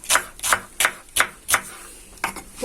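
A knife slices a halved onion thinly on a board, six sharp, crisp cuts in an uneven rhythm about a third to half a second apart, close and clear with no talking.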